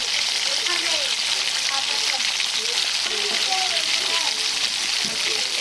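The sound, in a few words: flat beans, eggplant and potatoes frying in a pan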